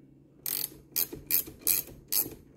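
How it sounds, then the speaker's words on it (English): An 18mm ratcheting wrench tightening a three-prong firearm muzzle device, giving five crisp, close clicking ratchet bursts in a regular rhythm with short quiet gaps between them. "I prefer using these ratcheting wrenches."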